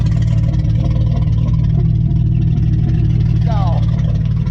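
A straight-piped 1980 Chevy C20 truck engine rumbles steadily up close with a loud, continuous low exhaust drone, with a person speaking over it.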